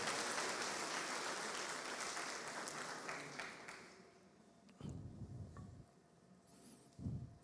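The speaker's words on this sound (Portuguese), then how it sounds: "Vamos aplaudir o Senhor porque Ele faz essas coisas." A church congregation applauds, a broad, faint wash of clapping that thins out and then returns in short bursts, with no voices over it.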